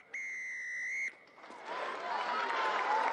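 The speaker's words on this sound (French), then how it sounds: "Monsieur l'arbitre siffle la fin de la rencontre" A referee's whistle ending a rugby match between Black Lion and Romanian Wolves: one long loud blast lasting about a second, followed by rising crowd noise and cheering in the stadium.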